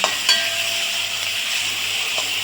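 Onions fry in a pan with a steady, close sizzling hiss and a couple of light stirring scrapes near the start. It is fairly loud and continuous, with no talking.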